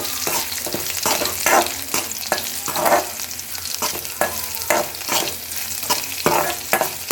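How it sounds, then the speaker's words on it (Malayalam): Ginger and garlic, cut into long strips, sauté in hot oil: a close, loud sizzle with rhythmic bursts of stirring, roughly a dozen scraping strokes in an uneven rhythm, and no voices. "ഇഞ്ചിയും വെളുത്തുള്ളിയും നീളത്തിൽ അരിഞ്ഞത് കേട്ടോ അതിട്ട് നല്ലപോലെ വഴച്ചിയെടുക്കുക"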